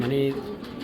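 A caged foreign pigeon, a Ludo Classic male, gives one short low coo close by, overlapped by someone speaking.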